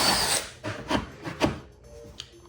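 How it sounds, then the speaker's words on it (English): A drill bores into an animatronic skeleton in a few short grinding bursts, rough and close, with pauses between the pushes. "need to drill one up top because it should be hollow"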